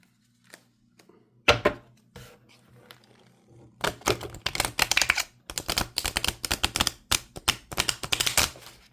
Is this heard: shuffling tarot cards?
yes